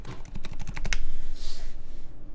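Keys clatter in a quick, close run on a custom-built mechanical keyboard with an 8-degree typing angle, crisp individual clacks tapering off into silence.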